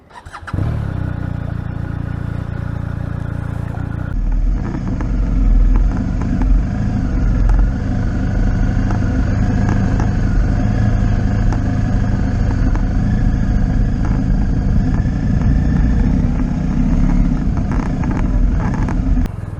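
A BMW R 1250 RT motorcycle starts, and its engine settles into a steady, close running drone with slight revving as it gets under way, with no voices.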